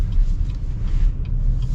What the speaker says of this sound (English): You get a little bit of tire noise